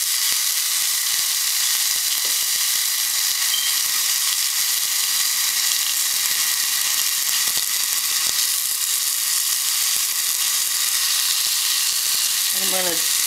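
Chopped onions fry in a pan, a loud, dense sizzle hissing steadily without pause, with faint clinks and stirring sounds near the end.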